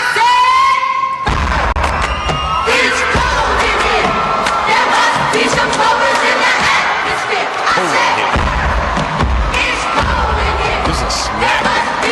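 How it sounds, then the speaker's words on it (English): Loud, energetic cheerleading routine from the film Bring It On, with a group of voices shouting and chanting in unison over rhythmic thumps, dense crowd-like cheering filling the whole stretch. "we got a cheerleading clip we were talking about cheerleaders before. This is that Bring It On cheer"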